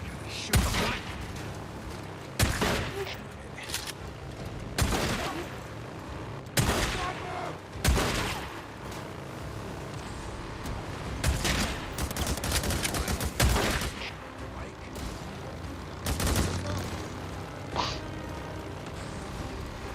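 Gunfire in a video game with a motorbike in play: repeated loud broadband blasts and bursts of shots spread across the stretch, with scattered speech mixed in between.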